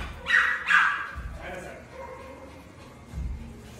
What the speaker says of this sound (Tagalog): meron isang asong napaka-gulo dyan, taul ng taul